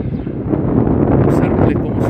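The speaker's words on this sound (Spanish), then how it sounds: "El día es muy ventoso, lo escucharán en el micrófono también." Strong wind buffets the microphone outdoors on a very windy day, a continuous loud roar and rumble filling the short stretch.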